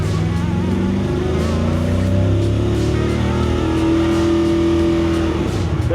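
Car with a failing 4L60 transmission accelerating hard through its gears, a loud, close engine drone rising steadily in pitch, with audible shift changes along the way.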